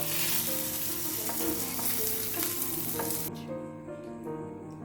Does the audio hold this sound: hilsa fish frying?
yes